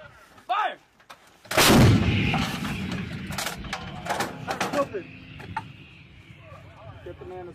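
M777 155mm howitzer fired by Marines at an outdoor artillery position during a Balikatan exercise, one huge close blast ringing out over background noise, followed by metallic handling clanks while crew members talk.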